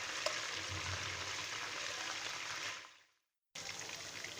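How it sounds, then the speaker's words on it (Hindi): Beef Bihari kababs fry in oil, making a dense, even hiss of sizzling that cuts out abruptly to silence for a moment before resuming at the same level. "1 से 2 मिनट आप दूसरी साइड पे फ्राई कर लेंगे"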